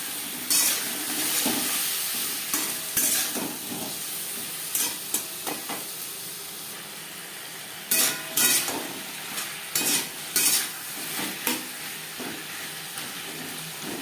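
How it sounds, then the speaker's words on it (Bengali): Papaya simmering with spices, turmeric, salt, ginger paste and green chilli paste in a pan for a vegetarian drumstick chorchori, giving a steady soft sizzle with scattered louder scrapes and stirs. "মশলার সাথে পেঁপে 2-3 মিনিট রান্না করে নেওয়ার পর"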